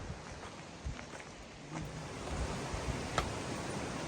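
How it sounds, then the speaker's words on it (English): A waterfall on the Te Araroa Trail gives a steady, soft rushing wash of noise, distant and unbroken, with a few faint knocks and rustles near the microphone. "That's a cool waterfall."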